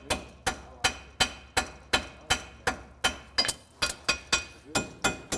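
A farrier's hammer rings against a horseshoe in a steady rhythm, about three sharp clangs per second with bright ringing tails, close and clear.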